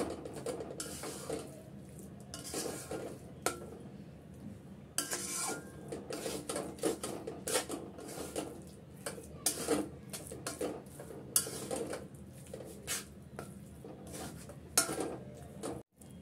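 Dates and crushed nuts are stirred together in a bowl, a steady run of spoon scrapes and clinks against the dish continuing throughout, close and fairly loud, with no talking.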